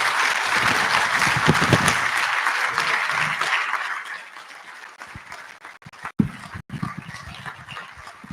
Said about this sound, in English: Please keep clapping till she sits.